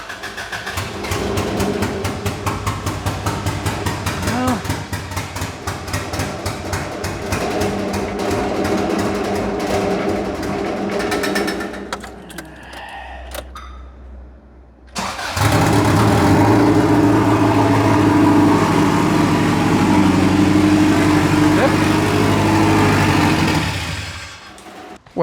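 A vehicle engine that has had its fuel pump primed cranks and fires, running loud and rough for a stretch, cuts out briefly, then catches again and settles into a steady, heavy idle close by.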